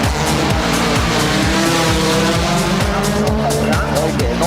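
Rally cars race through picturesque town streets at WRC ADAC Rallye Deutschland 2007, with loud engines revving up and down in rapid gear-change sweeps and tires squealing, while a commentator talks over the roar.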